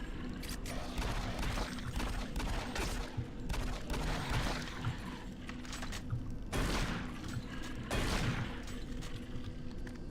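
Shotgun blasts in a first-person shooter, several loud broad bursts spaced a second or two apart with the strongest at about six and a half and eight seconds, over constant rumbling combat noise.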